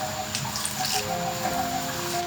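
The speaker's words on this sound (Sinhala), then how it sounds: "මේ මිශ්‍රණය සෑදීම සඳහා වතුර ටිකකුත් මේ පිටියකට දාගන්න." Water trickles and splashes steadily into a bowl of flour as patty dough is mixed, a close, continuous pouring sound with no one speaking.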